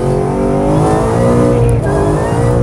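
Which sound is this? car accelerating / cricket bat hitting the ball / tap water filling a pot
car accelerating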